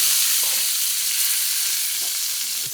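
Marron (crayfish) cooking with garlic in a hot pan, a loud steady sizzle and hiss close by with faint scraping as they are turned, no voices.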